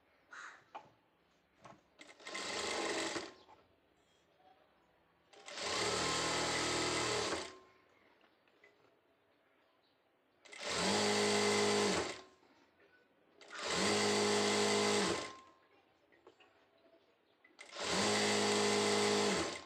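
Sewing machine stitching a folded strip of sari cloth: five loud, close bursts of steady mechanical whirring, each lasting about two seconds, separated by quiet pauses with faint background noise.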